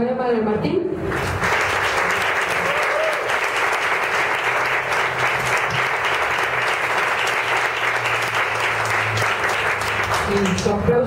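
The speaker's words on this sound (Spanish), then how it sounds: "Su aplauso para el poema de Martín." After a brief spoken introduction, an audience bursts into strong, sustained applause for a poem in a poetry vote, even dense clapping filling about ten seconds before a voice returns at the end.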